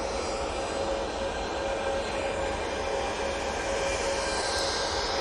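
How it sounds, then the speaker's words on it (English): A TUI Boeing 737-800 on the runway at Manchester Airport gives off a steady, loud engine roar with a sustained high whine, holding constant and unbroken throughout with no voices. "TUI 737-800 now coming on to the runway."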